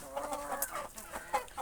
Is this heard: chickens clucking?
yes